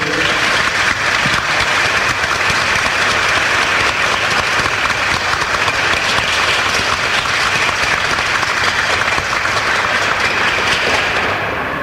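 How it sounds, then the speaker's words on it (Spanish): Audience at a ceremony marking the national Guarania day gives long, loud, sustained applause, many hands clapping evenly for about twelve seconds and easing slightly at the close. "Cuando don Oscar Mendoza, a quien ahora sí pido un fuerte aplauso,"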